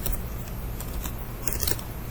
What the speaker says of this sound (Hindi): बहुत मुश्किल से टाइपिंग कर रहा हूँ गाइस मैं